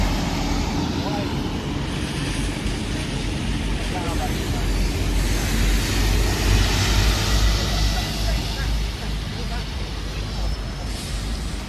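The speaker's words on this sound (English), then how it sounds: "See the bus, grey color." City-centre traffic in Bristol with a grey bus passing: a steady broadband roar and rumble of road vehicles, continuous throughout, with someone talking over it.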